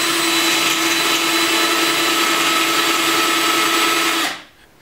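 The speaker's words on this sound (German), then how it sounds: "auf Höhe der Markierungen bohren wir zentral oben in das Holz" A power drill bores centrally into a wooden board while building a vocal booth, giving a loud, continuous, steady whine that holds for about four seconds and then cuts off.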